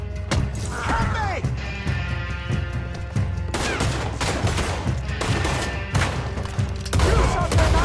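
Gunfire in Red Dead Redemption 2: a rapid fusillade of close, loud shots in bursts, with clattering mechanical and crashing sounds mixed among them.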